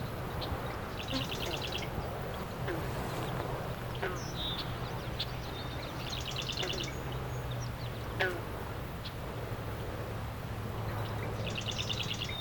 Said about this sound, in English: Alright, we've got marsh wren here. Green frog, song sparrow.